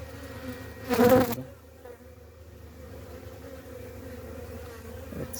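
Honeybees buzz inside an opened long beehive with long frames, with a loud swell of buzzing near the start that settles into a steady, softer hum.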